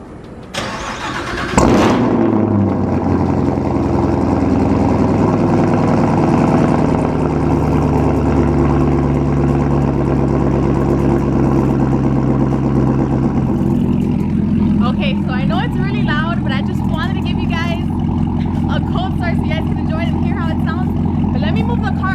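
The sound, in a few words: Camaro ZL1 1LE cold start engine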